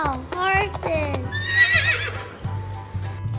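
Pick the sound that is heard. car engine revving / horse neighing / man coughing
horse neighing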